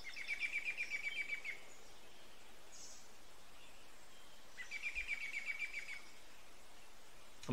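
Birds chirp faintly in the fishing game Open Fishing XL, two brief trilling bursts of rapid tweets separated by a few seconds of quiet ambient hiss.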